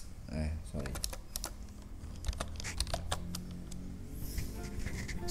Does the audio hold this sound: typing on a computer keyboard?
yes